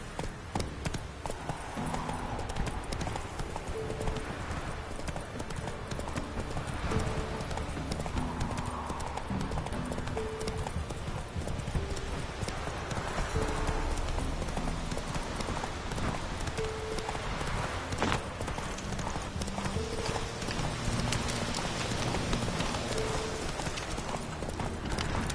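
Roach the horse gallops in The Witcher 3, hooves clip-clopping in a steady, continuous rhythm for the full stretch, with faint background game sounds and occasional brief voices.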